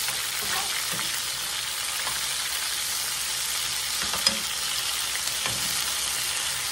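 Beef sizzling and frying in hot oil in a pan for a creamy beef and mushroom dish, a steady dense crackle throughout with occasional soft stirring clicks, close and alone with no talk.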